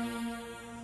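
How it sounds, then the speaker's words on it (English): Default patch of Reason's Thor software synthesizer playing a sustained tone rich in steady harmonics, a smooth held note lasting under a second at modest level, with no voices. "That's with a default sound that comes with a Thor."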